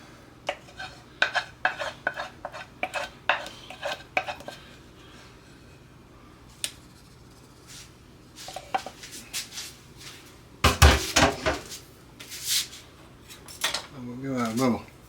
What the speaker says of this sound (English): But we get it all off our pan.